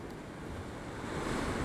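Waves rolling in at a coastline make a steady, rushing wash with wind noise, swelling slightly louder toward the end of the short stretch.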